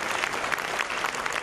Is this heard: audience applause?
yes